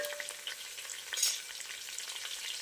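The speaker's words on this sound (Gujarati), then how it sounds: "ડુંગળી સારી રીતે તતડવા લાગી છે" Chopped onion frying on a low flame for Gujarati khichdi, giving a steady close crackle and sizzle with dense fine pops and one brief louder burst.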